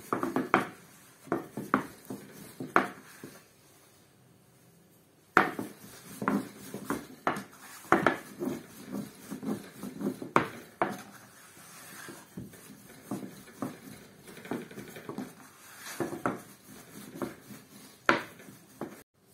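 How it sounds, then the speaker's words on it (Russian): Thin dough for Tatar chak-chak-style fried pastry being rolled out with a rolling pin: repeated soft rubbing strokes and light wooden knocks in an irregular rhythm, close by and fairly quiet, with a brief pause partway through and no talk. "Вот такое тонкое тесто я раскатала, очень тоненькое."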